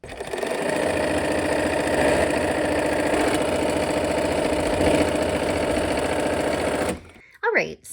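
A sewing machine stitches quilt pieces in a fast, steady mechanical whir for about seven seconds, then stops abruptly, followed by a short voice.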